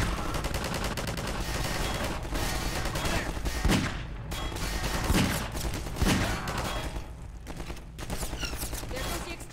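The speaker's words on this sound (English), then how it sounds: "They're gonna try and shoot at Alex." Sustained gunfire in Half-Life 2, dense rapid bursts of automatic shots under continuous combat noise with several heavier impacts, loud and close throughout.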